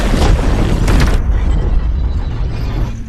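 A heavy rumbling blast with a loud, crackling burst, dying into a sustained low roar and debris-like hiss.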